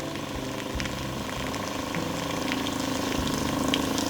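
A Winnebago View or Navion RV water pump runs steadily while filling the hot water heater, a continuous mechanical hum with a pulsing drone and trickling water over the top.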